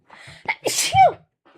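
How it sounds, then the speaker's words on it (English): One sharp, close sneeze with a quick breathy intake before it, then brief quiet. "I need to sneeze."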